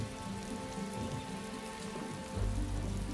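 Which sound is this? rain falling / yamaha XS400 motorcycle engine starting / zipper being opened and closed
rain falling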